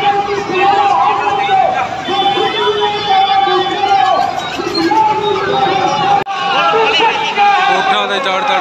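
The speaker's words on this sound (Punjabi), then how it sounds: "ਬਾਹਲੀ ਲੱਗੀ ਹੈ ਭੀੜ" A large crowd gathered at a Dussehra Ravan burning creates a loud, continuous chatter of many voices blending into an outdoor babble, steady throughout with a brief dip near the end.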